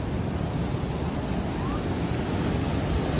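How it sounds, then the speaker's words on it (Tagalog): Strong sea waves surging onto a Zambales shore, a steady, loud broadband roar of surf with wind buffeting the microphone, continuous throughout with no talk. "Malakas yung alon niya, guys."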